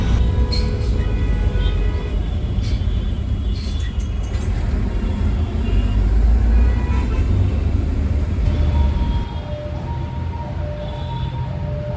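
Evening road traffic rumbles continuously nearby, with cars, buses and heavier vehicles passing, an air-brake hiss, and scattered horns and engine noise.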